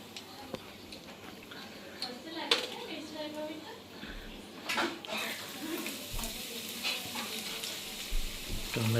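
Garlic and onion frying in a home kitchen pan, a steady sizzle with scattered ticks and scraping clicks, moderately close, with a voice talking over parts of it.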